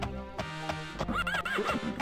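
A horse in The Elder Scrolls Daggerfall video game gives a loud, close whinny with quavering rising and falling pitch, accompanied by a few hoof clops.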